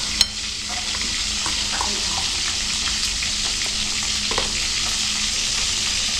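Food frying in a pan in a home kitchen, a steady hiss and sizzle continuing throughout, with faint clinks of stirring and no talk.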